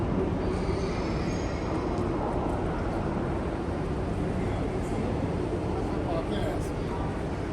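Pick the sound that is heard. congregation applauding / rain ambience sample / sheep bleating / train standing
train standing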